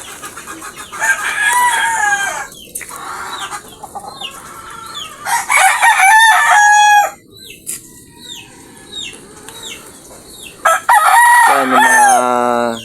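Backyard flock of healthy pet chickens and roosters in the rainy season, with repeated loud nearby crowing and steady clucking, and no one talking.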